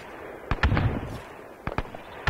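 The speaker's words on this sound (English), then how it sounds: "Grenade out." A grenade explosion in the ArmA 3 video game, heard as several sharp, booming cracks in quick bursts against steady background noise, loud and close with no talking.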